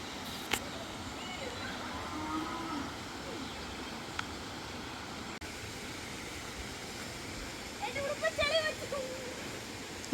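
A waterfall gives a steady, broad rushing wash of falling water that continues evenly throughout at moderate distance, with a brief burst of speech-like sound near the end.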